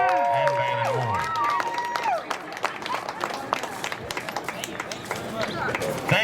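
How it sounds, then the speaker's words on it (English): A rodeo crowd at an open ranch bronc riding event in Colorado applauds the two champions, with scattered clapping and cheering heard at a distance after an announcer's amplified voice. "ladies and gentlemen, please give a big round of applause to these two champions, Phillip Smith and Balin Ward."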